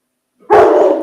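A single dog gives one loud, close bark after near silence, a sharp onset followed by a brief ringing tail.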